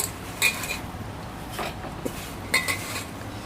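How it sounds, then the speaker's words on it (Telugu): Fried peanuts and flattened rice poha tipped into a pan on a home stove, with scattered clinks and scrapes of a metal spoon against the pan, a few sharper knocks standing out over quiet background. "పల్లీలు వేసుకొని ఈ అటుకులని దీంట్లోనే వేసేసుకుంటున్నాను"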